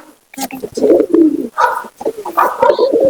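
Purebred pigeons cooing in a loft, with soft repeated coos and low warbles close by, broken by short gaps, while people talk nearby.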